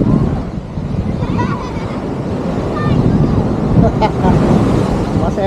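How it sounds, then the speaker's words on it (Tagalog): Big surf rolls onto a beach at Cagsiay, Mauban, Quezon, a heavy low roar of breaking waves under strong wind buffeting the microphone, with faint voices in the background. "Grabe, ang laki ng alon, no?"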